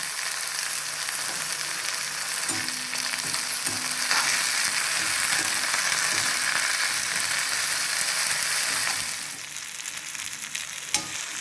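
Coriander leaves sauté in a pan for thuvaiyal with a steady, close frying sizzle and occasional stirring scrapes. The sizzle drops slightly near the end.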